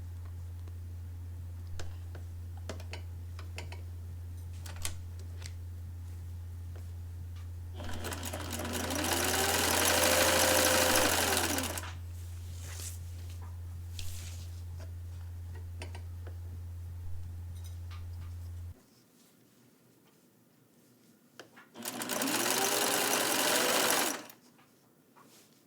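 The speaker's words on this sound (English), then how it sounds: "to stitch it at a 1/4 inch seam allowance with a normal stitch, 10 to 12 stitches per inch" A sewing machine stitches a blouse armhole seam, running in two loud bursts of rapid mechanical chatter separated by quieter pauses with faint ticks, over a steady low hum that stops partway through.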